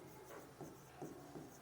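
Marker or chalk writing on a board during a class lesson, faint scratchy strokes repeating in a few short bursts, close and quiet with no talk.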